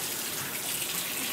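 Close, steady rush of running water from a tap while a tie-dyed shirt is rinsed, a continuous hissing splash with no break.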